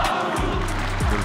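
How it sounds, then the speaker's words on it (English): A crowd at an MMA fight cheers in a dense, steady roar that fills the whole moment, loud and close, with no single voice standing out. "They're cheering for Mazouche now."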